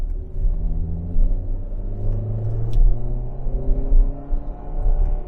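A truck passes on a road, a loud close rumbling engine with shifting tonal drone that swells and eases over several seconds, no talk.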